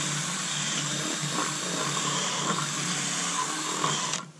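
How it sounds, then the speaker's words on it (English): A small electric drill boring a pilot hole whines steadily at close range for about four seconds, then cuts off abruptly at the end. "It's not the strongest little drill"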